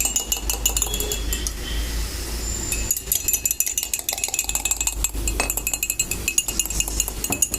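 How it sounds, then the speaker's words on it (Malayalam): Soda is poured into a glass for a lime soda, with a continuous fizzing hiss and repeated sharp glass clinks close by. "അപ്പം ഗ്യാസ് അപ്പം നമ്മൾ സോഡ ഒഴിക്കുകയാണ്"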